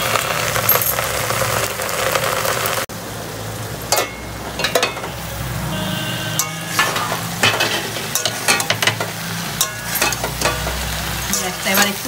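A mixed vegetable curry cooks in a pan over a gas flame, with a continuous bubbling sizzle throughout and scattered clattering knocks and scrapes of utensils, growing busier toward the end.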